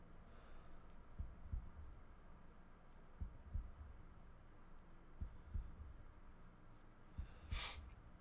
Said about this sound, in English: If I'll be quiet for a second, you kind of hear the heartbeat.